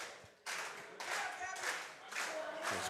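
A wrestling crowd claps to rally Gabby Forza in an Absolute Intense Wrestling match, steady broadband applause swelling in waves, with crowd voices mixed in.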